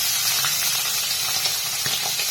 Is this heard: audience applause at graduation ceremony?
no